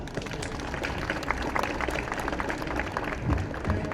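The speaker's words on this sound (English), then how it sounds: "Round of applause, please" An audience at the Canadian National Exhibition opening ceremony claps in a rough, uneven patter, moderately loud and fairly close, with a few louder hand strikes standing out.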